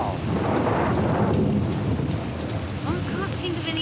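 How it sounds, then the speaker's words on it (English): A heavy rain shower pours down on an island survival camp, a loud dense hiss of drops close by that never lets up, with a few brief human sounds over it near the end. "Here comes the rain."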